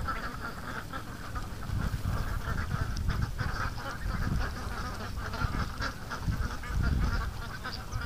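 Ducks quack repeatedly out in open water, several birds calling in irregular overlapping bursts at moderate distance against a steady outdoor background.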